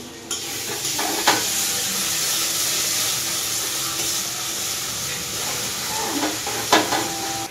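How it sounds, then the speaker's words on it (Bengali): Steady sizzling of a spice paste frying in hot oil for a jackfruit curry, close and continuous, with a few sharper clicks from stirring. "মশলাটা ভালোভাবে ভাজা হয়ে গেছে"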